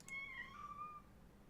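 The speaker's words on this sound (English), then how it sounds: "That cat sounds so fucking adorable." A cat gives a single short meow, fairly clear and close, set against a quiet room background with no voices over it.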